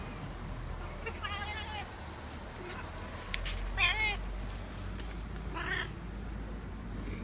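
Pika, a cat that dislikes other kittens, meows several times over about seven seconds, with drawn-out, wavering cries separated by pauses, heard against a steady outdoor background hum.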